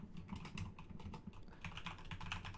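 Fast typing on a computer keyboard, a dense run of close, crisp keystrokes with a few heavier taps, quiet with no talking.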